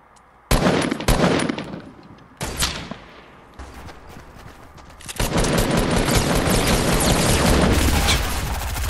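Gunfire in the Fortnite video game comes in loud bursts, first a few sharp volleys, then a sustained rapid stream of shots and booms, with no talking.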